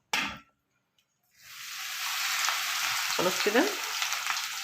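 Oil sizzles loudly and steadily in a pan while Egyptian koshari is cooked, after a short spoken bit and a pause, with stirring scrapes near the end.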